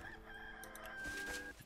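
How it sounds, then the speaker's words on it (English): A rooster crows in the video game Enshrouded, one drawn-out cock-a-doodle-doo rising over a sustained background tone, fairly close and clear. "That was a cock-a-doodle-doo."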